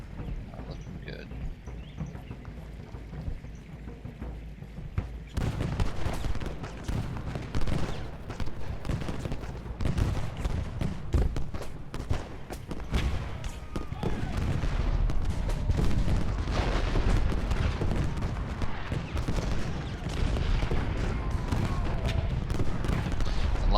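Cannon and gunfire blasts in a battle strategy video game, a dense barrage of repeated booms and cracks that grows louder after a quieter start and continues without pause.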